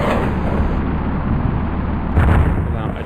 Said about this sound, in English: I'm gonna try out the riot bomb and see how well that works